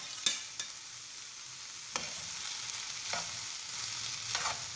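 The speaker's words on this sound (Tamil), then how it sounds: "எல்லாமே கலந்து வர மாதிரி கிளறி விட்டுக்கோங்க" Mushroom fried rice tossed in a pan, a low steady frying hiss broken by a few scattered spoon scrapes, faint and close with no speech.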